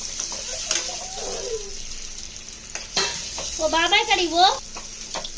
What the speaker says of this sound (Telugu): పైన బాగా వేగేలాగా కలుపుకోవాలి